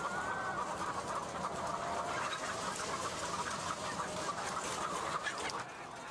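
Caged egg-laying hens on a commercial egg farm in California cluck and squawk in a dense, continuous flock chorus over steady barn noise, with no voices.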